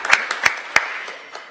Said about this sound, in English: Clap for veterans.